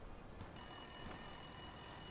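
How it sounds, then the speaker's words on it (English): A telephone in a phone booth starts ringing in Yakuza 5 Remastered, with a sustained electronic bell tone cutting in abruptly over a low ambient city murmur and holding steadily, with no speech. "And the phone's ringing."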